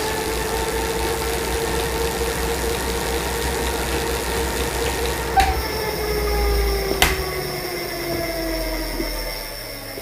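Elite smart bike trainer flywheel spinning at high power, above 500 watts: a loud, steady whirring drone with a tonal whine that slowly drops in pitch as it keeps spinning, with a couple of sharp clicks and no talk.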